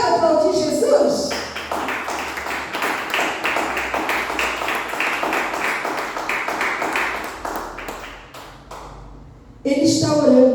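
A church congregation claps in a steady, dense rhythm for several seconds, with a preacher's voice heard briefly before and after the applause.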